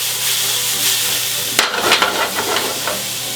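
Chicken and shallots sweat in a hot pan, a steady soft sizzle that turns into sharper scraping and stirring strokes partway through, close and alone with no voices.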